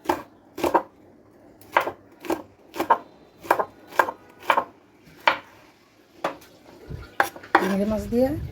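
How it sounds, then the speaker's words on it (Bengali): Vegetables are chopped into small pieces, a knife striking a cutting board about a dozen times in a loose, uneven rhythm close by, with a louder clattering rustle at the end. "ছোটো ছোটো করে কেটে নিচ্ছি।"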